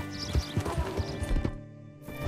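Horse hooves clip-clop on the ground in Red Dead Redemption 2, several close, uneven steps that pause briefly before resuming.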